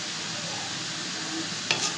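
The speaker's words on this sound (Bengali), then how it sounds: "বাঁধাকপিটা দিয়ে এখানে নাড়তে থাকবো" Cabbage fries with prawns in a pan while being stirred, a steady close sizzle with a brief scrape of the utensil near the end, no talk.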